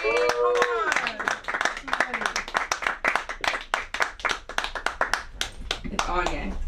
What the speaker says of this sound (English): Please, please, please clap your hands together for the one, the only Anya, everybody.